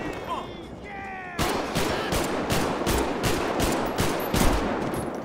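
Rapid gunfire from GTA 5, a burst of roughly a dozen loud, sharp shots in quick uneven succession after a brief quieter stretch with a chirping sound.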